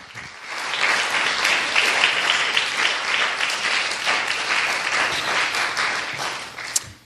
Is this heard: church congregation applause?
yes